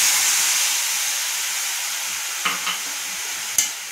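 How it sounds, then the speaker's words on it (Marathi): Fresh grated coconut sizzles and hisses steadily in a hot pan as milk is poured in, a continuous frying hiss with a few soft stirring knocks and scrapes near the end. "आता ह्याच्यात मी हे दूध घालतेय"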